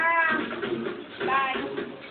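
A cat meows a couple of times, drawn-out and fairly close, with some muffled background noise.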